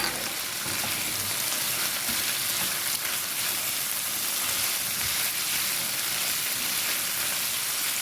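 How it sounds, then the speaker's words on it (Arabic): Green peppers frying with liver in a pan, country-style Egyptian liver dish, give a steady, dense sizzle that holds at an even level throughout, close and continuous with no talk. "السلام على الشكشكه والريحه الجميله"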